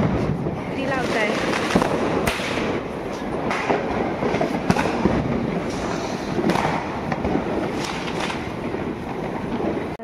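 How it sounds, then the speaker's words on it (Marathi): Diwali firecrackers pop and crackle in a dense string of sharp bursts, some loud and near, others overlapping in a continuous rattling barrage, with people's voices underneath. "फटाके किती सारे."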